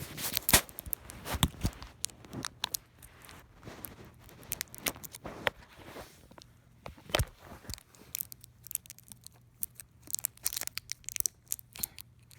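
AAA battery packaging is unwrapped close up, with scattered crinkling, tearing and plasticky clicks in irregular bursts over quiet pauses.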